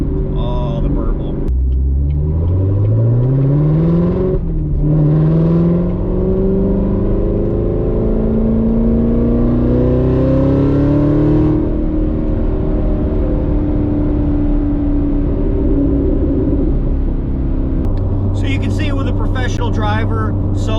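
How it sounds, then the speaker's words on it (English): A 2020 Chevrolet C8 Corvette Z51 on the Spring Mountain track, its engine loud and close, rising and falling through gears with a rumbling exhaust burble as it lifts off. "Oh, the burble."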